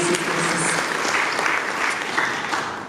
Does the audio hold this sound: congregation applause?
yes